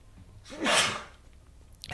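A single sharp sneeze from a streamer, building quickly to a loud burst and then fading, with no talk around it.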